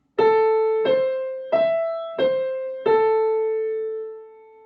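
A five-note piano phrase around the A above middle C repeats, evenly spaced strikes that sustain into one another and end on a long fading note, heard clearly with no voices.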